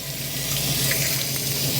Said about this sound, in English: So what I'm going to do now is I've just turned it on, and I'm flushing all around.